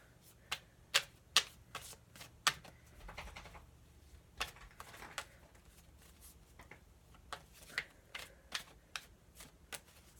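Tarot cards are drawn and handled in a quiet room, producing sharp irregular snaps and soft shuffling flicks, close and fairly faint, clustered at the start and the end with a calmer stretch between.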